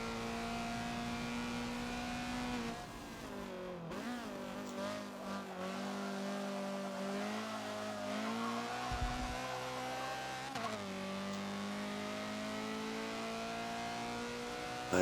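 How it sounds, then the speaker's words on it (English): Honda CRX in the Forza racing game at night on the Le Mans Bugatti circuit: a continuous, loud engine drone shifts pitch through corners, with a faint tire squeal as the rear rotates midway. "You hear the rear tires just protest just that little bit and rotate the car"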